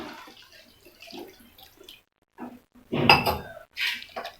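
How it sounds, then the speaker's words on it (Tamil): Water is poured into a pan of mochai masala in a home kitchen, a short splashing pour with faint clinks from the pan, preceded by quieter kitchen sounds. "இப்போ வந்து நான் தண்ணி ஆட் பண்ண போகிறேன்."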